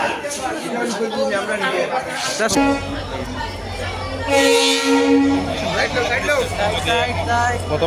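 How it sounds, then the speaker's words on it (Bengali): A train bound for Deoghar rolls into a busy Indian station during a festival crowd, a long loud horn blaring over the rumble while a crowd chatters and people talk nearby. "ট্রেনে ঢুকলো ট্রেন"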